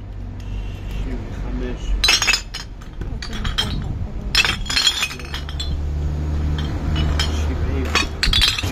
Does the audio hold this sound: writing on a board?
no